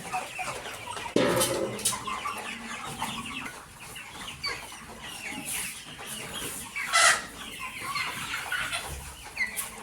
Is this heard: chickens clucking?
yes